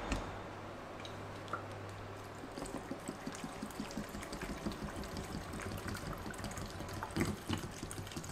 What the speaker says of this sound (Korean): 물을 요 가득 부어주세요.